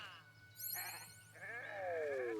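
In the strategy game Renowned Explorers, a sheep gives a couple of cartoonish, wavering bleats amid chiming game sound effects and a soft background drone.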